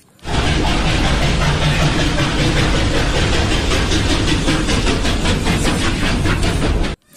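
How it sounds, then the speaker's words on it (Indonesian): A loud, continuous rumbling clatter of a toy train running, steady and close, with a rapid rhythmic rattle throughout before stopping suddenly. "Wah, yang ini kereta api ekspres."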